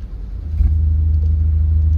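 A Marcopolo bus engine idles in a deep, steady rumble close by, swelling slightly after a brief rise and then holding constant, with no talking over it.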